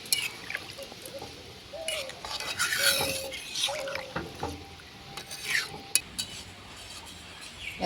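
Mutton and jackfruit curry stirred in a pot, a spoon scraping and rasping against the metal in uneven strokes with soft liquid sloshing, close and moderately loud, alone without talk.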